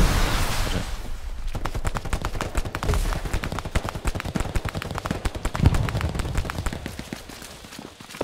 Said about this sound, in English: Pinned by an MG to the west.